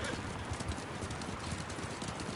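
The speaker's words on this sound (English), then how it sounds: "To your horses, men." Horses trot with rapid, steady clip-clop hoofbeats in the samurai action game Ghost of Tsushima, loud and continuous across a busy backdrop, with a faint voice underneath.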